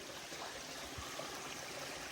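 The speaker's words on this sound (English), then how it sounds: "This is the creek that the reviews were talking about that you have to cross." A shallow creek on an Appalachian trail flows over rocks, a steady low rushing and trickling wash heard close and continuous, with no voices.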